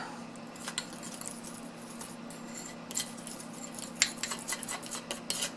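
A spoon works yellow food coloring into cake frosting in a bowl, giving soft, scattered clinks and scrapes against a quiet background, with a few sharper taps near the end.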